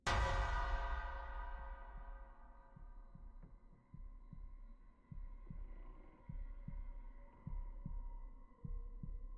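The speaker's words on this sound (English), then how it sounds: "It's still hunting. I can still hear the heartbeat." A steady, thumping heartbeat plays during a ghost hunt in a video game, its low double beats repeating evenly under a lingering hum after a loud opening hit.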